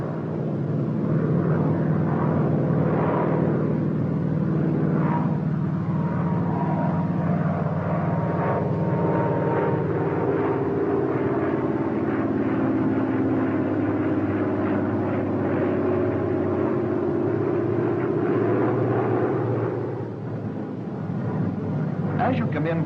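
Steady drone of a Grumman F6F Hellcat fighter's piston engine and propeller in flight, a continuous loud rumble that holds level throughout, with a voice narrating over it.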